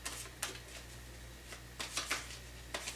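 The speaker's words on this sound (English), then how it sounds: "Every time I shuffle these cards, every one of them wants to fly out." A deck of tarot cards being shuffled, giving several quick, crisp riffling bursts close by in a quiet room over a low steady hum.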